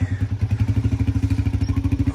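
Close, loud motorcycle engine running with a fast, regular putter, pulsing steadily throughout.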